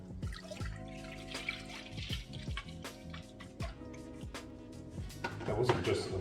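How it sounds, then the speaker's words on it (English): Milk tips from a bottle into a pot on a gas stove, giving close, glugging, splashing pours with bubbly drips and a few light knocks, fairly quiet and with no voices. "So I'm going to just put a pot onto there, and we're going to tip our milk in here."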